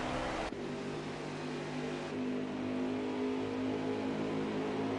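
Xfinity Series race car engine at Homestead, droning loud and steady with strong harmonic tones as the driver lifts off the gas, the pitch dropping and then holding a lower, sustained note.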